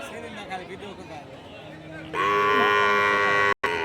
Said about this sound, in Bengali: এটা একটা সাহিওয়াল সিন্ধি জাতের গরু